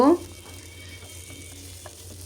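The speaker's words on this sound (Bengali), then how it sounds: "নাড়াচাড়া করে একটু ভেজে তারপর অন্য অন্য কিছু অ্যাড করব" Whole spices (cloves, cinnamon, cardamom, peppercorns) frying in a small amount in a pan: a brief louder stir at the start, then a faint steady sizzle with a few light clicks.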